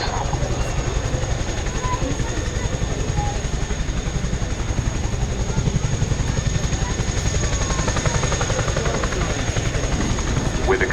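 A military transport helicopter with two 5,000 hp Honeywell engines performs at the RAF Cosford Airshow 2024, its loud, steady rotor thump and engine roar close and continuous throughout.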